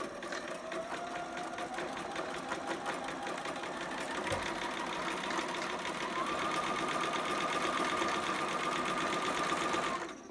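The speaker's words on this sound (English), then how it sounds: "go to straight stitch and make your stitch as long as possible for your gathering stitch" A sewing machine running a long straight gathering stitch on fabric for a two-piece sitter pattern, a steady rapid mechanical whir with a brief pause midway and a stop at the end, close and alone.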